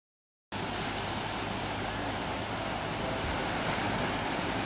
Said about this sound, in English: we're in the beach with my sister. The view is pretty cool and amazing.